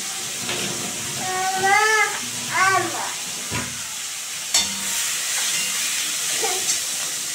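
Onion, tomato and green chili hit a hot pan with a tempered spice mix, giving a steady broadband sizzle and steam hiss throughout, with a brief louder crackle midway and a cat-like vocal sound early on.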